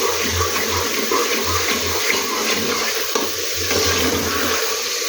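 Potato and egg curry masala sizzles in a pan while being stirred, a steady close hiss with soft scraping movements throughout.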